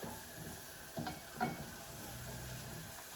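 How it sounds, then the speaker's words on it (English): A tablespoon of minced garlic is stirred into onions frying over a low-to-medium flame for eggplant parmesan. A soft, even sizzle runs throughout, broken by a couple of brief spoon scrapes, close and fairly quiet. "I'm going to stir that in with the onions."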